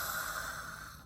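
A person's voice imitates snoring with one rough, snorting rasp of turbulent breath, close and fairly loud, lasting about a second before cutting off.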